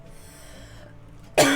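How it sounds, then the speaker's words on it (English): A single sharp cough bursts out loud and close at the end, following a quiet stretch of faint room tone. "She's angry at me because I'm coughing."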